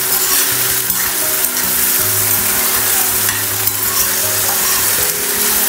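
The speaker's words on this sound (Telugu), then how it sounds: "ఇలా ఆయిల్లో వేయగానే చిటపట్లాడేస్తుంది" Brinjal pieces fry in hot oil on a glass-top stove, crackling and spluttering in a loud, continuous sizzle that holds steady throughout, with a faint low hum beneath.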